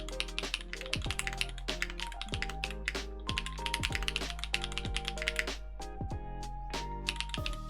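Someone types a quick Discord reply on a mechanical keyboard, producing a steady, rapid stream of crisp key clicks with occasional heavier thocks. The typing is close and continuous, with no voice over it.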